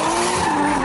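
Car tires squeal in a continuous loud skid during drifting at a drift-taxi event, with engine noise beneath, close by.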